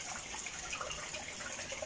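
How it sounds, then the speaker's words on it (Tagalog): Floodwater overflowing from a riverbank and pouring into a house during Typhoon Paeng, a steady close gushing and rushing of water that runs unbroken and moderately loud, with no voices over it. "Nag-overflow yung tubig dun sa bangbang sa bukid."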